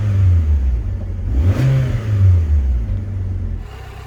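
A Rover K-series car engine idles smoothly and quietly up close, a steady low hum with a brief swell in revs around the middle, running alone with no talking.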